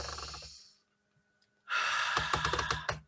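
A person takes a slow, deep breath as part of a calm focusing exercise. There is a soft exhale first, then a pause, then a long, loud, breathy intake that sounds close to the microphone.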